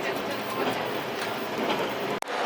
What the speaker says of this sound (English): I am now sitting on the train to go to Nagoya.